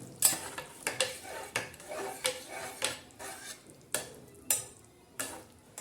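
A ladle stirs urad dal (black gram lentils) in a pan, with green chillies, garlic, coriander, cumin and coriander seeds in the dish, giving repeated scraping, clinking strokes in a steady rhythm, close and clear with no talk.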